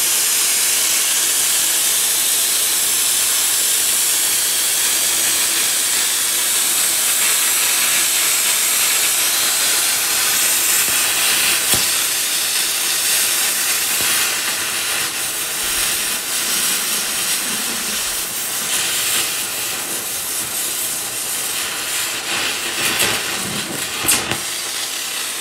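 MultiPlaz 3500 plasma cutter and welder running, a loud, continuous broadband hiss of steam pressure that stays steady and close for the whole stretch, with a few faint clicks and knocks late on and no talking.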